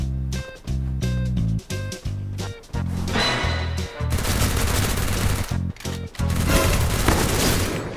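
Sustained video game gunfire in a special island mode, rapid overlapping bursts and heavy booms that stay loud throughout, broken by short gaps, with music-like tones in the opening seconds.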